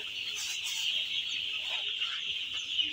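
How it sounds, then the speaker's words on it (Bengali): Four-day-old broiler chicks on a poultry farm in cold weather, a dense continuous chorus of high peeping cheeps from many birds at once, steady and close, with no talking. "মুরগিগুলোর বয়স হচ্ছে আজকে 4 দিন।"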